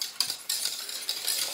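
A utensil stirs pastry cream in a saucepan, making soft continuous scraping with a few sharper clinks against the metal. The sound is quiet and close, with no voices.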